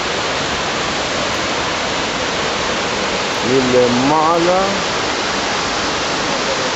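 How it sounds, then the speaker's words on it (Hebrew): The Savica waterfall roars loud and steady as a continuous broadband rush of falling water, close by, with a brief spoken word partway through. "אני עובר ומצלם את האזור הזה של המפל"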